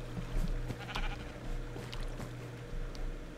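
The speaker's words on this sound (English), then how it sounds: "There's only 1 sheep." Minecraft sheep in a video game bleat several times in short, nasal calls spaced about half a second apart, close and clear over a low steady hum.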